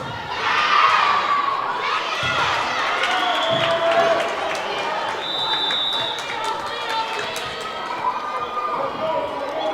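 A gym crowd at a high school volleyball match cheers loudly, with children shouting and shrieking over the roar, footsteps and a few shoe squeaks mixed into the steady noise.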